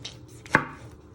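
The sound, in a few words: knife chopping vegetables for ratatouille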